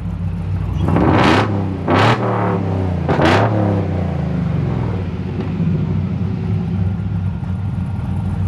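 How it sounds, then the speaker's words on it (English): A 1968 Chevy C10 V8 fitted with Dynamax mufflers revs loudly three times in quick succession, each blip rising and falling, then settles into a deep rumbling idle up close. "when you like rev it, it's like crazy. Like, it gets really loud,"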